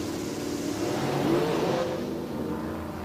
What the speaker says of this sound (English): And both cars also lighting the tires again.